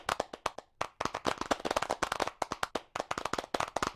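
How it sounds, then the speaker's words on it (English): An audience at a virtual reality conference session claps in a dense burst of sharp hand claps, close and continuous for several seconds with no talk. "We can applaud Simon again."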